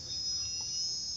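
A steady, faint high-pitched insect trill fills a calm village compound, unbroken and without voices.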